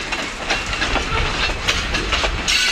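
Steady rolling rumble of freight train cars on rails with rhythmic clickety-clack joints and a light hiss, fairly close.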